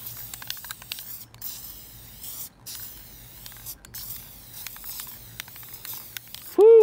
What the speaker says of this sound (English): But I'll go ahead and spray the glue on them right now